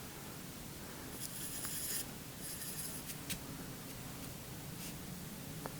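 A pen drawing a Ramadan lantern on paper, with soft scratchy strokes coming in short bursts and quick flicks over a quiet hiss, close and faint, with no talking.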